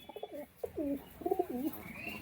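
A Murshidabadi Giribaz tumbler pigeon coos several times in soft, throaty bursts, close by, over a quiet background.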